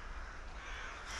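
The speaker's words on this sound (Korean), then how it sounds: "떼까마귀는 마치 자기 순서를 기다렸다가 대열에 합류하는 것만 같았습니다." A flock of rooks caws as the birds fly out of a forest, a dense, continuous chorus of overlapping harsh calls that stays loud throughout.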